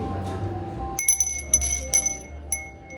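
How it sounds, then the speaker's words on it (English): A small call bell rung at a butler café in Seoul to summon the staff, several bright metallic dings in quick succession with a lingering ring over soft room murmur. "to call the butler, you have to ring this bell"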